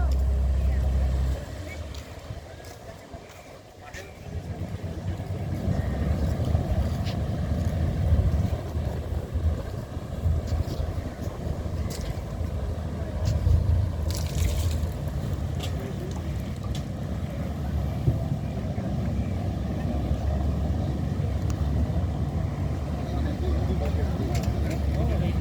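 A fishing trawler's engine rumbles steadily as the boat, loaded with fish, pulls up to a jetty surrounded by mangrove forest, with wind noise and a person talking over it.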